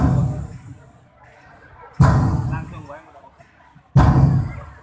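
Firecrackers set off on Eid al-Fitr night give three sharp, loud bangs about two seconds apart, each ringing out and fading before the next, with voices faint in between.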